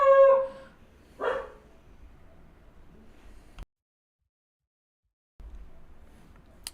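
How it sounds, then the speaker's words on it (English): A dog nearby gives a short bark followed by a second brief yelp, both fairly loud against a quiet background, and then the sound cuts to silence. "There was a dog."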